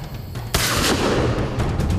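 A hunter's gun fires once at wild boars coming down from a forest toward farmland. A sharp, loud blast hits about halfway in and rolls into a long, echoing rumble after a quieter outdoor lead-in.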